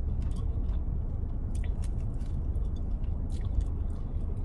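Someone bites into and chews a spicy Korean-style Wingstop chicken wing, a steady run of soft wet chewing and small crunches up close, with no talk.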